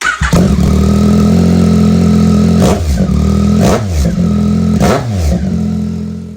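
A 2021 Yamaha MT-09 fitted with a freshly installed Mivv X-M5 exhaust rumbles loud and close, holding a deep, steady idle broken by several sharp throttle blips that rise and fall before settling.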